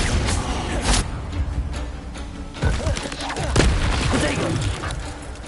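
The Incendio fire spell in Hogwarts Legacy, cast in a fight against spiders, goes off as loud, repeated booming bursts and thumps in close succession with a dense crackling rumble between them.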